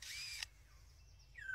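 A bird mimics a motor-driven camera shutter, a brief whirring buzz that cuts off with a click, followed by faint high chirps and a rising whistle, quiet and close.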